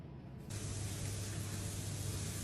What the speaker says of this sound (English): Oil in a pan. Add your onion and garlic. And saute that until it's soft and translucent.